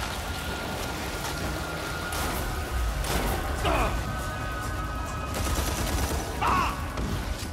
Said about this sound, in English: We're getting shot at from everywhere.